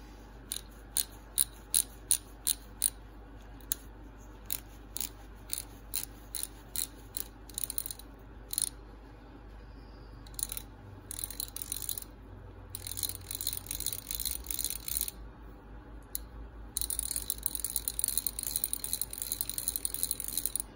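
A rebuilt Snap-on FV71 ratchet clicks in sharp, close bursts of separate ticks that give way to longer runs of fast, continuous ratcheting.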